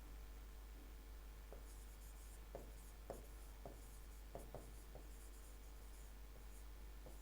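Chalk or pen strokes scratch across a classroom board, a series of short, soft scrapes spaced irregularly over a steady low hum, writing out a single word.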